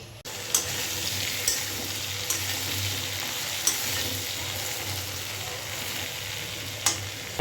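Shrimp and potatoes sizzle as they fry in a pan on a home stove, a steady, close crackle and hiss running throughout, broken by a few sharp clicks and taps, with no talking.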